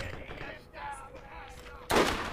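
Gunfire and a sharp closing burst like a grenade blast in the shooter game Borderlands, sounding over steady background game noise, with the loud burst near the end.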